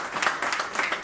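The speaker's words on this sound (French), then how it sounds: "applaudissement pour moi, s'il vous plaît" A crowd at a French-speaking gathering gives a brief burst of steady applause, close and dense throughout.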